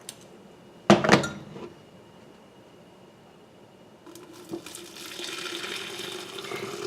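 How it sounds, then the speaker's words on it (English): After a sharp clatter, boiling water pours in a steady, close stream over tea bags in a kitchen while sweet tea concentrate is made. "2 cups of boiling water."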